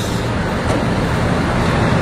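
An ANS intercity bus bound for West Sumatra sits in steady, loud engine rumble with broad road-like noise throughout, no talk heard.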